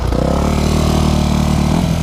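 Yamaha YZF 250 dirt bike engine revving up close, a loud steady buzzing drone with strong harmonics that rises in pitch toward the end.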